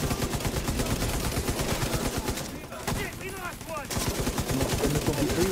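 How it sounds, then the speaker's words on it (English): Automatic turret gunfire in The Division 2, a dense stream of rapid shots with a brief lull in the middle before the firing resumes at full intensity. "I got my turret up there helping me."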